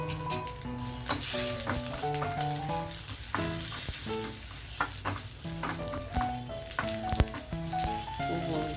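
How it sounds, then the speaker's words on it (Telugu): Tempering spices sizzle and fry in a pan for a dal with fenugreek leaves, a steady crackling hiss that carries on unbroken at a moderate level. "చూడండి, మరి మాడిపోకూడదు, తాలింపు వేగాలంతే."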